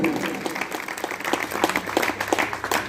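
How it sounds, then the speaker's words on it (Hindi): Listeners at a Jain monk's religious discourse in Bilhara clap in a loose, uneven burst, with distinct hand claps close by over a softer crowd wash. "तालियां अच्छे से बजाया करो, तुम लोग ऐसे बजाते हो।"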